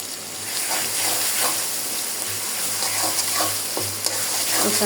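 Garlic paste sizzles steadily in a hot pan while being stirred, a continuous close frying hiss broken by soft scraping strokes, with no voices.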